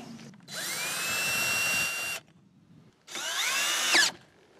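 A power drill driving a retaining nut onto a garden buggy axle during a wheel swap, two close whirring bursts of about one and a half seconds each, with rising pitch and a short pause between.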